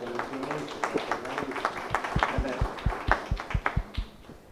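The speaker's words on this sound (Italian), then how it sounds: "Un applauso" Audience at an art conference on naïve art clapping for a guest, a modest round of applause with distinct individual claps, picking up midway and thinning at the end.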